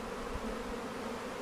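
Faint, steady low drone of honey bees buzzing around an open hive during an inspection, a continuous hum with no talk.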